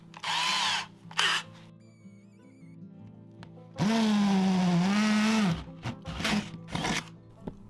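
A power drill in hammer mode runs in short bursts, then a longer loud grinding stretch as it bores through a roof, followed by brief spurts and stops.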